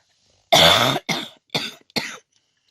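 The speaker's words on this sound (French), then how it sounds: "Pardon, je tousse." Four coughs in a row, the first long and forceful, the rest shorter and weaker, close up with silence around them.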